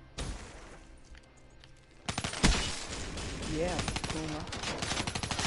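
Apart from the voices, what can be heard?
Dingo light machine gun fire in a video game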